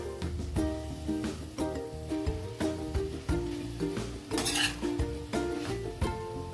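A spoon stirs fried rice with soybeans in a pan, making repeated close scraping and clinking strokes on the metal in a steady rhythm, with a soft sizzle beneath.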